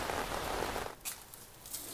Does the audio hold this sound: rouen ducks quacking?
no